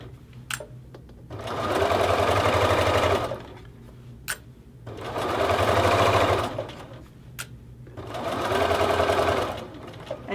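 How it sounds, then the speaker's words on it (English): A sewing machine back stitching the casing of a hoodie hood runs in three loud, close bursts of a few seconds each, separated by short pauses with faint clicks. "when you get down towards the front, you will do the same thing, back stitch to the other end."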